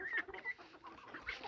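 Chickens eating alongside ducks cluck softly in a brief, faint burst of short calls at a distance.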